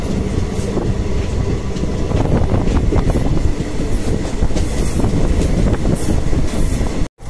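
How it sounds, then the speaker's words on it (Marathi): A passenger train runs at speed, heard from inside the coach as a loud steady rumble with rhythmic clickety-clack of the wheels on the rails and no talk. "ट्रेन एकदम राईट टाइम चालू आहे।"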